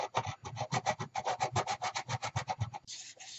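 Rhythmic back-and-forth rasping of sandpaper on cured epoxy during a broken Bakelite radio repair, about twenty quick close strokes in steady succession, then a brief smoother scrape at the end.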